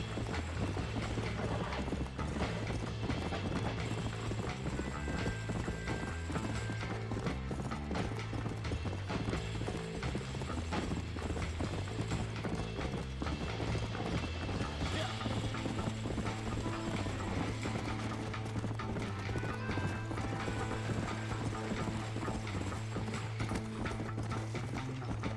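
In Red Dead Redemption, a horse gallops with rapid, rhythmic hoof clip-clops that carry on steadily at close range, layered over a mechanical whirring and occasional whinnies, with no talking.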